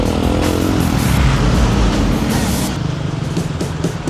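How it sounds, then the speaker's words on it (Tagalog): Dense road traffic rumbles through a busy Baguio intersection at Marcos Highway and Session Road, with motorcycles and cars droning close by in a steady, loud wash of engines and road noise. "Heavy traffic talaga dito."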